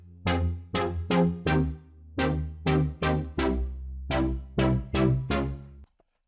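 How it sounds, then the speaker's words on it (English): Future house synth built from two slightly detuned saw waves with chorus, playing a run of punchy staccato chords in a bouncy rhythm, loud and alone, ending abruptly. "2 saw waves that are each detuned a bit different."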